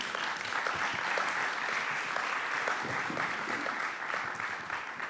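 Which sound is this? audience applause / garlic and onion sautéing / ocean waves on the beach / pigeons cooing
audience applause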